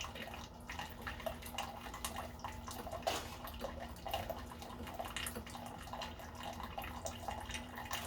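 A Keurig coffee machine brewing water through during descaling, a steady, faint stream of water splashing and trickling into a cup, with small drips and clicks and a low hum underneath.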